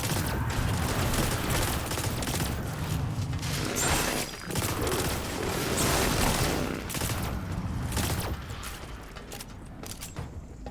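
Sidearm gunfire in the sci-fi shooter Destiny 2, rapid bursts of loud overlapping shots with mechanical clicks and booms, dense and continuous before easing slightly near the end.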